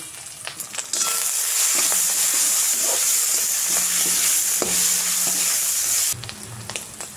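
Potatoes and cumin frying in hot oil in a kadai, a loud, steady sizzle that holds for about five seconds, with quieter stirring and clatter before and after.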